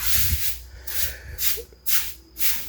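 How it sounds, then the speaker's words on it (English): Several short bursts of spray hiss from a spray bottle, each a quick breathy pump, with brief quiet gaps between them. "I will spray it again in a less diluted"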